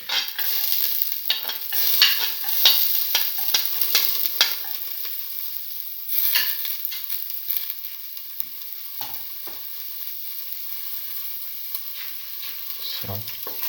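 Garlic frying and being stirred in a pan, with bursts of sizzle and scraping at the start and around six seconds, easing to a softer, steady fry.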